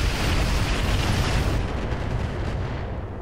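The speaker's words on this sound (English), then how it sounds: "That's our barrage going off the distance." Distant artillery barrage in the Roguetech BattleTech mech game, a dense continuous rumble of overlapping blasts that stays steady and loud, thinning slightly toward the end.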